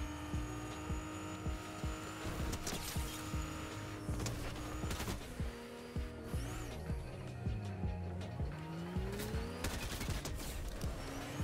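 Fortnite game audio with a vehicle driving on the island, an engine droning steadily under music and effects, with sharp bursts and squeal-like sweeps breaking through over about eleven seconds.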